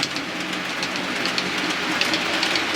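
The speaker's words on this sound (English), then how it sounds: "there's two trains coming across" Small trains rattle and click steadily along their tracks, a continuous light clatter with faint rhythmic ticks, fairly quiet and without voices.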